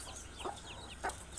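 Soft clucking from hens with newly hatched chicks, a couple of short calls over quiet background, faint and close.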